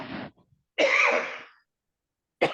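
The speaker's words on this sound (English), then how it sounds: "now you got me coughing" A few short, rough coughs, separated by brief silences, close to the listener.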